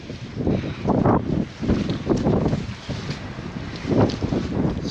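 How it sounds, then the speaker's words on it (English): Steady gusting wind buffets the microphone, a low rumbling roar that rises and falls throughout, with no voices. "It's getting windy."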